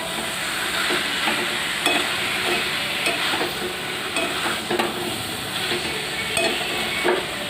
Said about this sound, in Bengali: আমি এটা ভালো করে নেড়ে নেব আবার